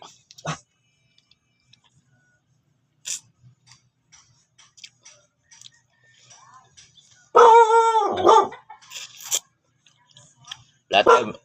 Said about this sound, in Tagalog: Wala tayong magagawa, maingay yung aso ko.